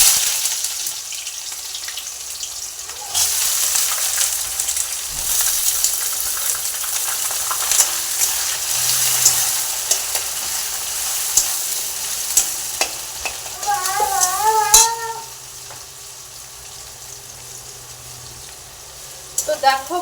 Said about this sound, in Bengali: এখানটায় আমি পেঁয়াজগুলো একটু লাল লাল করে ভেজে নিব